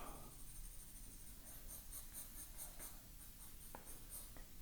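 Pencil sketching a human torso on paper, drawn with both hands at once: soft, continuous scratchy strokes that come in short bursts, with a couple of sharper taps near the end. The strokes sound close, steady and fairly quiet, and no one speaks.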